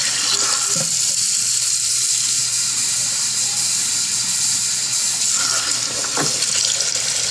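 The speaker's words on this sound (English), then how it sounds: "So what I'm going to do is add a little water first." Water streams steadily into a container, a continuous splashing gush with a few brief clinks and knocks, and no talking.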